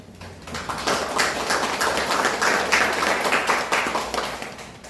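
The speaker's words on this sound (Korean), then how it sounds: "반갑게 박수 한번." Audience applause at a briefing, a steady burst of many hands clapping that fills the room for several seconds, with no talking over it.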